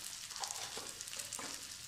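Eggs frying with ground dried chili added, giving a brief, fairly quiet sizzle and crackle with light scraping.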